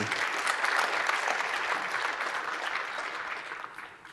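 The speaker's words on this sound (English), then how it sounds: "Yeah, clap for that" An audience at a SXSW talk applauds loudly and steadily, a dense wash of clapping that gradually thins and fades over about four seconds.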